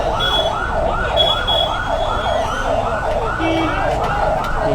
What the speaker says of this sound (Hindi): ये तस्वीर आप देखिए कि सायरन बजाती हुई गाड़ियां एक एक करके राजभवन के अंदर से निकल रही है